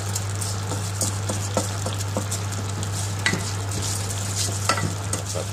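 Spanish casserole being stirred and fried in oil, with a steady sizzle and scattered scraping, clicking stir strokes over a constant low hum and no talk.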